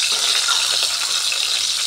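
Chicken frying in a pan with only light spicing gives off a steady, close, even sizzle with crackling texture throughout, and no voices.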